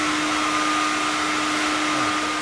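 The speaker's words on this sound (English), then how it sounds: "Your hairdryer's working. Hairdryer's doing something." A Revlon 1800-watt hair dryer blows steadily and loudly inside a Bonanza aircraft throughout, a constant airy roar with a fixed whining tone and no pauses.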